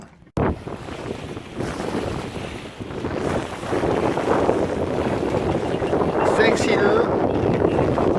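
Steady wind rushing and buffeting across the microphone aboard a sailboat on open water in fine weather, with the low wash of the boat moving through waves underneath.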